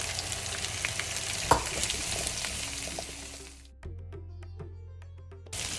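Chopped onion and half a kilo of green tomatoes sizzle and fry in a pan for tomato thuvayal, a steady crackling hiss with a stirring scrape, then the sizzle briefly drops away before returning.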